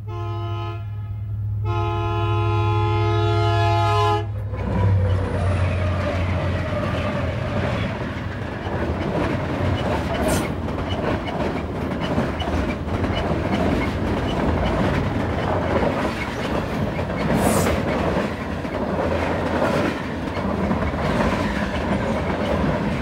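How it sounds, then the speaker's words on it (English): Eastbound freight train sounding a loud multi-tone horn on an evening line, then rumbling past close by with steady rolling wheel clatter that carries on to the end. "The evening air is quickly punctuated by the horn of an eastbound freight."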